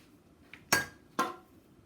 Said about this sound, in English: So now I'm going to put the pressure lid on